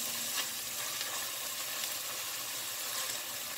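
A steady sizzle of filling frying in a pan for Cuban stuffed peppers with beef, stirred as it cooks, a dense continuous hiss close up with no talking.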